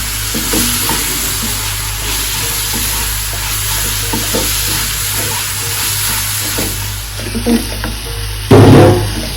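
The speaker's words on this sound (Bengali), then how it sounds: "এখন হচ্ছে মশলাটাকে খুব ভালোভাবে কষা নিতে হবে" Spice masala fries hard in a pan as the base for a dried-fish bhuna, a loud, dense, continuous sizzle with faint stirring, then a short clattering knock near the end.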